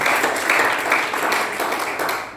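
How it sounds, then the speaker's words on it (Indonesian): A church congregation claps at a Sunday service in a close, sustained round of applause that is loud at first and then slowly fades. "Kau berikan tepuk tangan untuk Tuhan."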